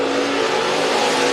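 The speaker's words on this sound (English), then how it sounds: "A little over 72 miles per hour for the 37X of Skeeter Esty" A race car engine roars on a short oval track, a loud, continuous, close drone with a steady high pitch and no breaks.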